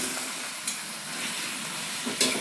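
Pieces of mutton frying in a pan of sautéed onion and tomato masala give a soft, steady sizzle throughout, with a couple of brief louder crackles and stirring scrapes.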